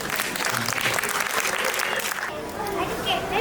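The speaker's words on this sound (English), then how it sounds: "Can we have a huge round of applause, please?" An audience at a live music tribute evening applauds loudly and steadily for the whole stretch, a dense wash of clapping.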